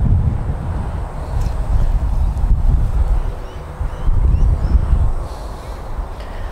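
Wind gusts buffet the microphone on an open golf driving range, a loud low rumble rising and falling in waves throughout, with faint bird calls in the distance.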